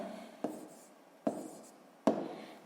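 A math equation written by hand, heard as three short, sharp pen or chalk taps, each followed by a brief fading scratch. Close and quiet, with no voices.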